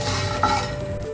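Twenty grams of cardamom pods dry-roasting in a pan while being stirred, a brief close scrape and rattle over a low hum with one small clink.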